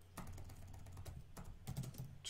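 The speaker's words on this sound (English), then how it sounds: "I'm typing up very quickly" Fast typing on a computer keyboard, a close run of quick light clicks and clacks in irregular bursts, alone and moderately quiet.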